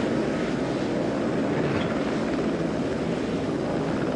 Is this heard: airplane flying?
yes